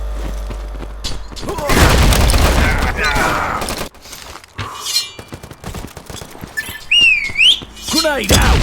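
Grenade blast in a video game: a loud booming explosion with a long rumbling tail, followed by scattered gunfire, whistling tones and chirp-like effects, with voices talking over it.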